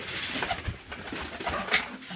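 Rajshahi Giribaj pigeons coo softly and repeatedly at close range in a home loft, forming a low, murmuring rhythm with faint background noise and no speech.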